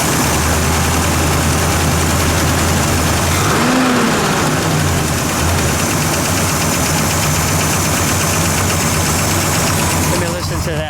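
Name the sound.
1967 Pontiac GTO engine idling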